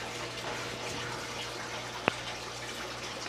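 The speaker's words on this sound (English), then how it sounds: "it splashes right here from the pump" Water from an aquarium pump splashes into a fish tank in a fish room, a steady close wash and trickle with a low hum underneath and one sharp click partway through.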